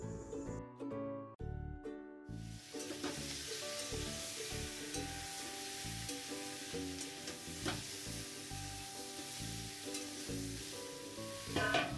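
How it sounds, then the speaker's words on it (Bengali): Prawns fry in hot mustard oil in a kadai with a steady, dense sizzle, joined by occasional stirring scrapes and clinks, close and continuous with no talk. "তেলটা হালকা গরম হয়ে গেলে তাতে চিংড়ি মাছগুলো দিয়ে দেব আর চিংড়ি মাছটা একটু লাল লাল হওয়া পর্যন্ত ভেজে নেব।"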